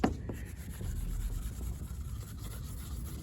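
A faint, steady rubbing and squeaking of a clay bar gliding back and forth over smooth, lubricated Corvette C6 hood paint, close up and quiet.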